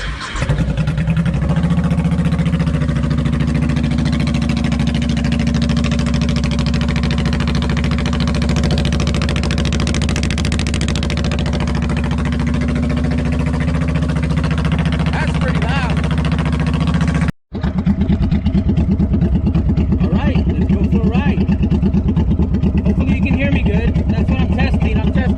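A small engine fires up with the choke on and settles into a loud, steady idle that runs on throughout, with a brief cut midway and a person speaking over it.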